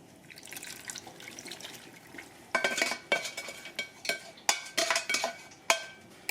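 Sauce being added to cooked green bananas in a pot, a run of wet splashes and pours with clinking against the pot, starting soft and growing into distinct, irregular knocks and slops.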